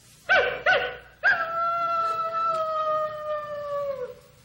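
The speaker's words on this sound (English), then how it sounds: "That's a coyote." A coyote gives two short yips, then a long, wavering howl that slowly fades, heard alone against a quiet background.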